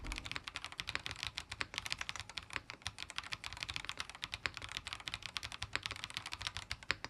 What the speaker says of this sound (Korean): 이 타이폰 회축으로 지금 빌드한 거 타이핑 한번 해보겠습니다.